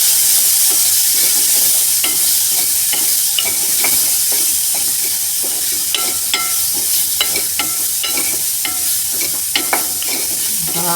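Green chickpeas seasoned with salt, chili and chaat masala are stirred in a hot pan, a constant sizzle broken by a regular rhythm of spoon scrapes and taps, close and fairly loud.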